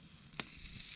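Johnsonville pure pork sausages with cheese sizzle on a flat rock at a lakeside campsite, a quiet, brief frying hiss with one sharp pop.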